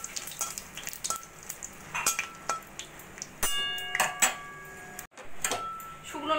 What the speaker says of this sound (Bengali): শুকনো লঙ্কা গুলোকে একটু সোনালি করে ভেজে নেব।